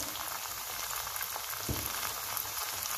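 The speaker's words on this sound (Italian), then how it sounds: "aggiungo in padella i pomodorini, un pochino di sale" Cherry tomatoes sizzle steadily in a frying pan with salt while peperonata cooks, a continuous even crackle throughout at a moderate level.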